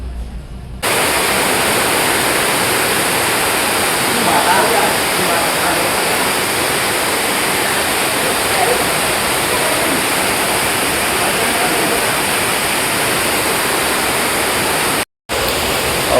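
Rushing water flows steadily through a forest cave, a loud, dense broadband roar that holds unbroken for the whole stretch apart from a brief cutout near the end; no distinct voices stand out above it.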